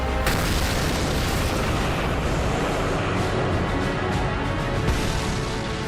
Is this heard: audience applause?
no